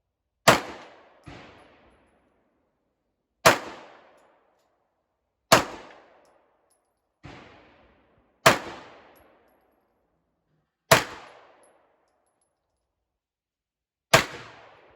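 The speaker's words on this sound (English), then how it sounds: "shot all 7 shots, hold 7 in the mag, and shot all 7 shots." A Hi-Point 9mm pistol fires a series of sharp, widely spaced shots outdoors, each loud crack trailing off in a ringing echo, with quiet gaps of a second or more between them.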